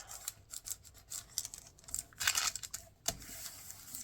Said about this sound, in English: I love using vellum because of that, oh, that crinkly sound, love it.